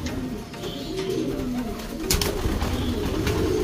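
A caged pigeon or dove coos in soft, repeated low phrases, fairly close, with faint rustling and background noise and no speech.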